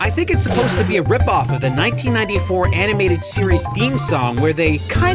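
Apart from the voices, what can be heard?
No distinct noise like a dog, phone or traffic.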